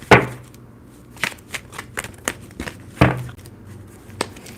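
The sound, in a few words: shuffling tarot cards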